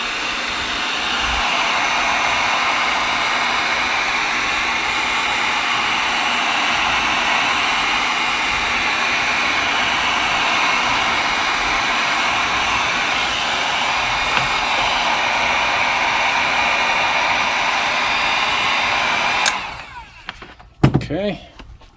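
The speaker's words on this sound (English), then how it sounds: "Now, afterwards, I take my heat gun" A heat gun blows hot air onto the sole of a Maison Margiela split-toe boot during fitting of a Casali mirror sole protector. It makes a loud, steady broadband whoosh held close for about twenty seconds, then cuts off abruptly, leaving faint handling noises.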